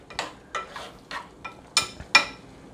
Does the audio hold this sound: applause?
no